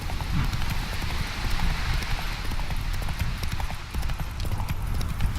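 Horse hooves galloping in The Witcher 3 video game, a fast, continuous clip-clop rhythm at full loudness throughout, with ambient game sound around it.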